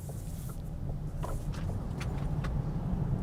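Volkswagen ID.Buzz electric van accelerating on a road, heard from inside as a steady low rumble of tyre and wind noise that swells slightly as speed builds, with no one talking.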